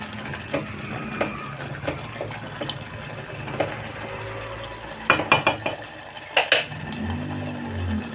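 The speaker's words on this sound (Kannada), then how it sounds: "ಸ್ವಲ್ಪ ನಾವು ಎಣ್ಣೆಯಲ್ಲಿ ಈ ಥರ ಫ್ರೈ ಮಾಡಿದರೆ ನಮ್ಮ ಗೊಜ್ಜು ಟೇಸ್ಟಿಯಾಗಿ ಬರುತ್ತೆ ಸ್ನೇಹಿತರೆ" Okra gojju frying in oil in a pan, with scattered stirring scrapes and clinks, a few sharper utensil knocks near the end over a low steady sizzle.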